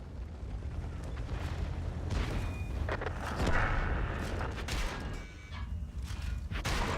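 Tank cannon shots in a video game boom out as heavy, broadband blasts with rumbling tails, several bursts overlapping across a continuously loud, dense battle soundscape.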